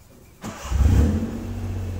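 A car engine cranks over with the key and catches, rising into a brief rev before settling to a steady idle, close and clear after a quiet start.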